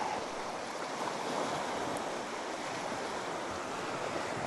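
Ocean waves wash steadily onto a shore in a continuous, broad surf roar with faint wind, near and moderately loud, no voices.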